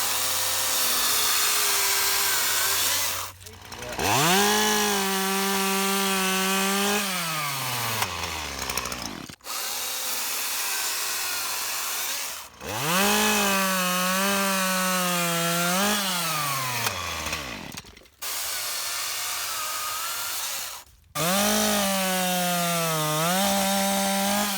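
A STIHL top handle chainsaw, one of an MS150T gas and MSA160T battery pair, cuts through 2 to 4 inch branches in three passes, its motor rising to a loud, steady strained whine during each cut and dropping back between them.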